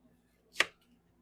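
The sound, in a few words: dicing an onion with a knife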